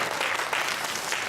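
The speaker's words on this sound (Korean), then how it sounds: "박수 한번 쳐주세요" Congregation applauding during a Sunday church service, a sustained, even patter of many hands clapping at moderate volume with no voices over it.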